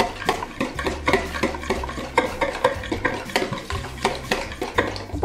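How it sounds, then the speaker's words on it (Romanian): Cake batter of egg, oil, syrup and caramel is stirred briskly in a bowl, a close run of rapid scraping and tapping strokes in an even rhythm, with no speech. "Amestecăm foarte bine și"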